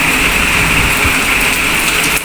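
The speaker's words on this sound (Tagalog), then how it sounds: "Biglang lumakas yung ulan," Heavy rain suddenly pours down outside a building lobby, a dense steady hiss of drops on surfaces holding at an even loudness for the whole moment.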